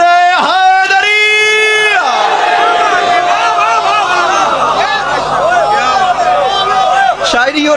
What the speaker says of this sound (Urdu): ارے وہ جو پیچھے بیٹھے ہاتھ اٹھا کے مل کے نعرے حیدری